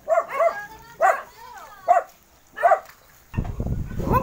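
A dog on a pig farm where a boar is kept with a sow barks about five times in spaced, loud, close single barks, followed by a burst of rough rustling noise.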